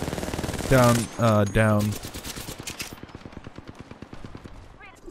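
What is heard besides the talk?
gunfire in video game Apex Legends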